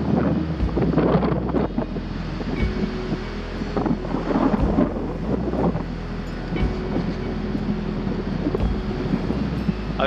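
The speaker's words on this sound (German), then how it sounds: "Aber der Wind nimmt auf jeden Fall gut zu." Steady, loud wind buffeting a microphone outdoors in the Swedish wilderness, a constant low roar with rumbling gusts throughout.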